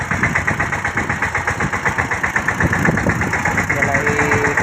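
A homemade tractor-like farm vehicle nicknamed the Mini Cooper idles close by with a steady, pulsing engine rhythm and slight knocking, while people talk over it.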